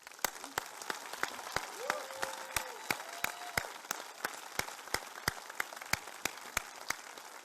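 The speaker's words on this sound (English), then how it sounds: "Please join me in giving the staff your appreciation and a round of applause" A school audience applauds the staff at a principal's address, a steady wash of clapping with sharp, regularly spaced claps standing out near the recorder and a brief tonal sound partway through.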